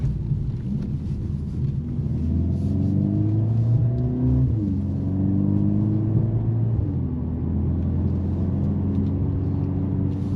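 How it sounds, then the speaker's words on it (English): Engine of a 2025 Mercedes-AMG CLA 45 S coupe, 416 hp, revving in Sport Plus mode; a deep exhaust drone rises and falls through a few swelling revs, close and steady, with no talking. "this car has a real exhaust system, real exhaust sound, so it sounds quite good"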